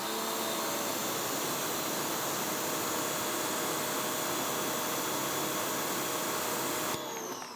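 A new Active electric pressure washer with a CAT pump, rated 1850 psi and 1.4 gpm, sprays through a 25-degree nozzle, giving a loud steady hissing roar that cuts off abruptly near the end.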